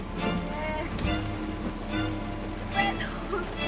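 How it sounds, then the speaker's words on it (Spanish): Heavy rain falls steadily as a dense, continuous wash, with faint voices and a car interior murmur underneath at night. "Está lloviendo fuerte"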